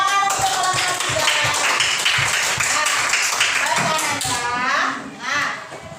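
Children in a classroom clap for a group of classmates, a brisk, fairly loud burst of applause mixed with overlapping young voices that tapers off near the end.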